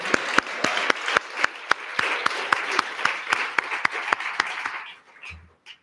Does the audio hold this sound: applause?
yes